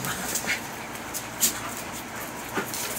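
Small dog versus bigger dogs tussling over a sock, with faint whimpers and yips popping up intermittently over a steady background hiss.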